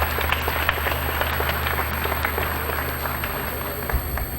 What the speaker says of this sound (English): So I'd like to give them a round of applause to show our appreciation.